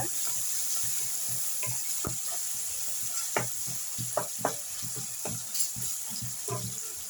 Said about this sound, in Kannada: ಈಗ ಟೊಮೆಟೊ ಮತ್ತು ಈರುಳ್ಳಿ ಶುಂಠಿ ಬೆಳ್ಳುಳ್ಳಿ ಎಲ್ಲ ಚೆನ್ನಾಗಿ ಫ್ರೈ ಆಗಿದೆ